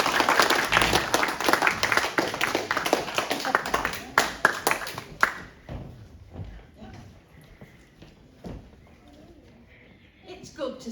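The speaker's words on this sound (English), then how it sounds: "can you please give a big round of applause to Mrs." Dense, loud applause and clapping from an audience greets Yvonne Pinnington, performing a Selina Cooper monologue, for about five seconds before thinning out into a quieter room with scattered sounds.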